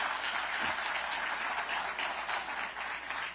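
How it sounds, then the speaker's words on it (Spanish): An audience at a global health forum applauds, a dense, even patter of many hands clapping that holds steady for a few seconds at moderate distance, with no talk over it. "Ese aplauso significa que tengo muchos en condiciones parecidas."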